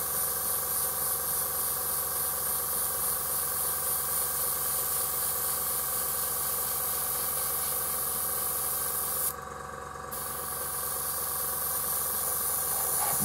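An airbrush sprays thin coats of paint for hazard stripes, a continuous close, even hiss that drops out briefly for about a second before resuming at a slightly lower level.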